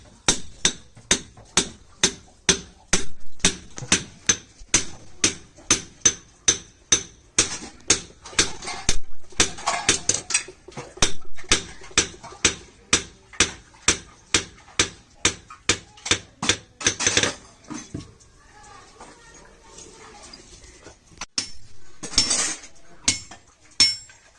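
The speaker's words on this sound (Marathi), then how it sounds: "छोटी जी हातोडी आहे त्या हातोडीने व्यवस्थित ठोकून सरळ करून घेणार" A small hammer taps a metal sickle blade in quick, even strikes with bright metallic rings, briefly pausing and then resuming near the end.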